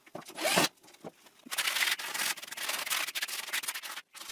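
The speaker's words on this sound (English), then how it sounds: "Then I have to take a lot of time sanding it to get a nice surface." Rough, rhythmic rubbing strokes of sandpaper on wood, in loud bursts with short pauses between them, close up and without talk.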